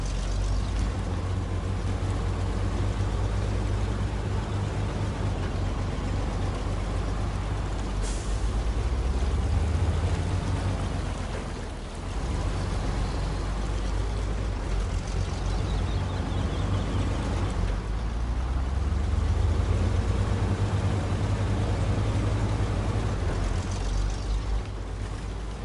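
White Western Star truck in SnowRunner rumbling steadily with a deep, continuous engine drone, loud and close, with brief dips as it works over rough ground.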